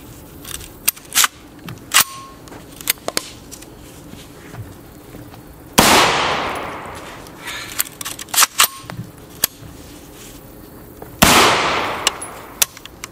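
Faxon ARAK-21 rifle fired in a torture test, giving sharp isolated cracks scattered through the clip plus two louder, ringing blasts, with no talk.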